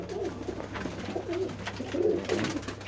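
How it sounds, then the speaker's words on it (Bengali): Teddy pigeons kept with their well-grown chicks give soft, low cooing calls, several rolling coos close by over a faint steady background hiss. "তো এগুলো টেডি কবুতরের বাচ্চা, টেডি কবুতরের বাচ্চা দেখতে পাচ্ছেন"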